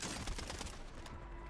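Brief burst of rapid SVA 545 submachine gun fire in Warzone 3, a loud fast rattle of shots that fades out after about a second.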